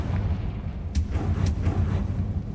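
Confringo spell blasts in Hogwarts Legacy, a rumbling low barrage with two sharp cracking bursts near the middle, loud and close, no talk.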